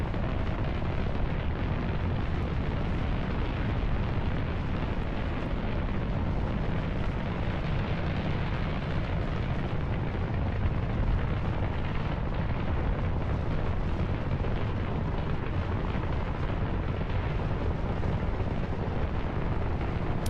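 Rocket engines firing at full throttle in Kerbal Space Program, a steady, dense roar that holds constant and loud throughout without pause.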